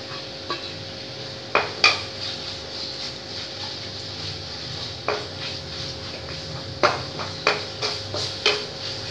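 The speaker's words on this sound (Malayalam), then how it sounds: "സവാള ഒന്ന് സോൾട്ട് ആവുന്നത് വരെ നമുക്ക് ഇങ്ങനെ ഒന്ന് ഇളക്കിക്കൊണ്ടിരിക്കേണ്ടി വരും." Long-sliced large onion is stirred in a pan with a spatula, giving soft scrapes and sharp clinks against the metal at irregular moments. A faint sizzle runs underneath, with no voices.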